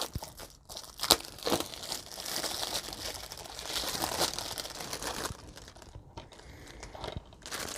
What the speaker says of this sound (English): let's see if this plastic is easy enough for me to rip open with my hand